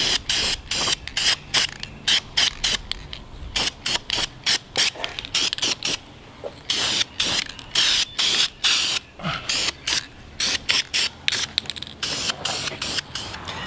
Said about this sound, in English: So get your can, give it a shake, and then spray down the entire bottom side of the caliper